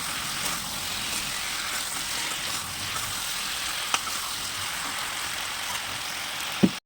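Chicken sizzles steadily in a hot pan for a village-style Bengali chicken jhol as potatoes go in, giving an even frying hiss with a couple of sharp clicks from stirring.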